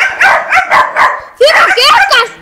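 A dog barks close and loud in two quick runs of sharp, repeated yaps.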